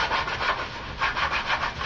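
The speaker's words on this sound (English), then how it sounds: "take your sanding block and sand all over your hockey mask" Rhythmic scratchy rubbing of a sanding block over a plastic hockey mask, repeated back-and-forth strokes at close range with no voices.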